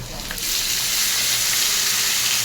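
Two diced potatoes go into hot oil tempered with whole cumin, dried red chilli and bay leaf, and a loud, bright sizzle rises suddenly and holds steady.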